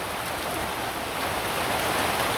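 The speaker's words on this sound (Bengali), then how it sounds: "বৃষ্টির গুড়া অনেক বড় বড় শব্দটা দেখেন" Dense, loud rain pours down in a steady roar, unbroken and close, with no voices.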